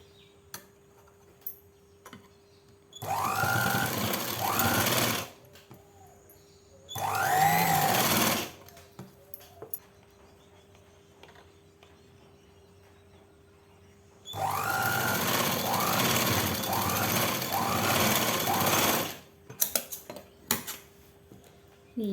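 Sewing machine stitching a 42-inch blouse, running in three bursts of rapid loud mechanical whirring and clatter, two short and one longer, separated by quiet pauses with light handling noises.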